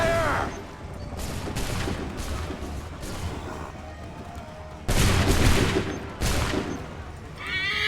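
Musket volleys crash out on command in Assassin's Creed III, several loud broadband bursts over a dense battlefield din, with heavier blasts near the five- and six-second marks.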